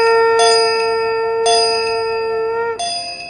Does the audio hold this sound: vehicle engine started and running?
no